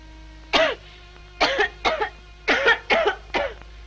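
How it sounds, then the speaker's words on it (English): A man in a 1930s drama coughing in short, harsh bursts: one cough, then a run of five or six close, loud hacking coughs in quick succession, with no speech. "I cough all the time."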